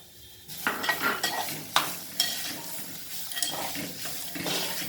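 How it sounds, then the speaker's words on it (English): Mixed vegetables sauté in a pan for millet upma, a steady sizzle and crackle broken by scraping stirs and clatters of a spoon, close and fairly loud, with no talking. "So we'll allow the vegetables to saute for 2-3 minutes"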